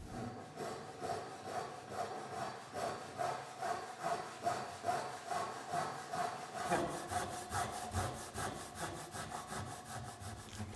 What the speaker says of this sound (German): Und die Säge an der Außenkante ansetzen.